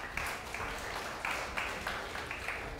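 A church congregation applauding together, a steady mass of overlapping claps with a few louder surges, moderately distant and filling the room, no voices standing out.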